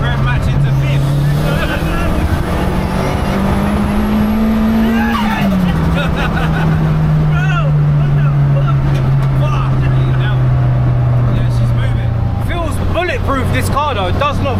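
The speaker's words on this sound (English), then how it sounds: "Oh, that was a rev match into 5th." A BMW M140i with a 3.4L stroker engine, Garrett GT30 turbo and four-wheel drive drones loudly, dips and blips its revs as it rev-matches into fifth gear, then pulls on steadily while people talk over it.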